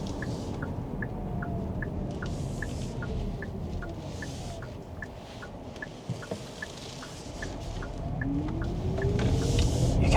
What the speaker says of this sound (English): You can feel the electric motor doing that sort of whiny noise when the vehicle is moving along at low speed.